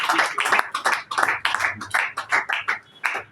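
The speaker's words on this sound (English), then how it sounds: "Let's clap for her." An audience claps for a newly qualified bronze business leader at a business meeting, a short burst of close, uneven hand claps with a bright snappy rhythm.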